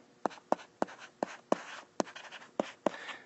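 Pen or marker strokes tap and scratch across a writing surface in quick, uneven bursts, about nine distinct marks, close and quiet, with no talk over them.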